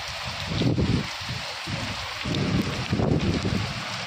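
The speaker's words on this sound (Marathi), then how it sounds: "पण आज खूपच मोठा पाऊस आला होता" Heavy rain from the first monsoon shower pours onto a terrace as a dense, steady hiss that swells and eases in gusts, fairly close and with no one talking.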